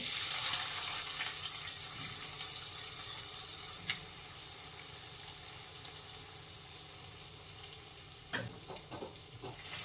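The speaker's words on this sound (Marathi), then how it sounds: "तयार केलेला तडका दही आणि भात मिक्स केलेला त्यामध्ये घालून घेऊया" Hot tadka of spices in oil poured into a bowl of curd mixed with rice, giving a steady sizzle and crackle that fades over several seconds, with a few brief clinks near the end.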